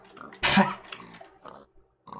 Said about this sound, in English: I'd say that pig's having a bit of trouble.